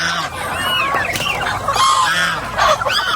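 A flock of chickens eating scattered corn feed on a farm clucks loudly and busily, with overlapping squawks and chatter close by throughout.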